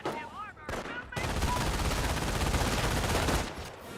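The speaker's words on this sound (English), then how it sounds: "MG42 firing away" An MG42 machine gun rattles off sustained bursts in Company of Heroes, a dense, rapid, continuous fire that starts after a short pause and tapers off, with a voice talking briefly at the start.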